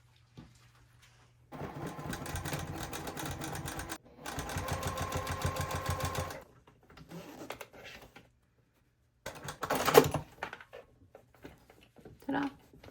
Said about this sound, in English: Take it to the machine. Start sewing here and sew down along the zipper.